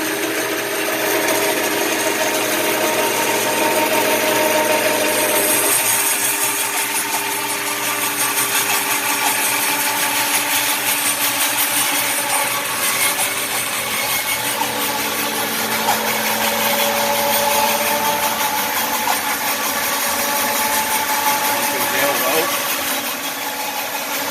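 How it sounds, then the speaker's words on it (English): A band saw fitted with a Grizzly blade runs while resawing red oak, a steady droning hum and rasp throughout, close and fairly loud, with a voice speaking over it at times. "Turn on the saw."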